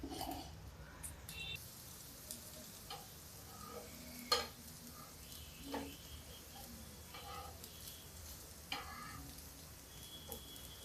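Red kidney bean galouti kebabs fry in a little oil over a low gas flame, giving a faint, steady sizzle with occasional soft clicks and taps of a utensil against the pan.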